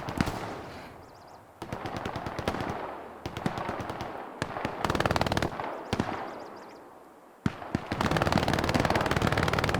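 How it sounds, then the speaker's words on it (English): Heavy gunfire in the WWII shooter Hell Let Loose: dense machine-gun bursts and rapid rifle and pistol shots crackle through nearly the whole stretch, loud and close, with brief lulls between volleys. "Some return fire with the pistol there."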